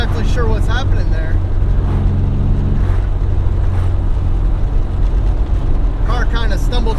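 A Nissan 300ZX engine drones under load, stumbling and cutting out as boost builds to about 4 psi, its pitch wavering and faltering as power drops away, with a voice speaking briefly over it.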